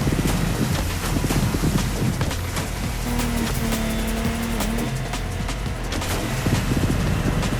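A Lamborghini Technomar speedboat in the racing game The Crew Motorfest roars at a steady high pitch across the water, with constant wave and wind wash and no voices.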